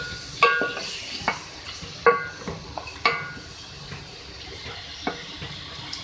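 Bay leaves, cloves and cardamom are stirred in a pot for arvi gosht, with a spoon clinking and scraping against the metal in irregular knocks over a soft sizzle, close by.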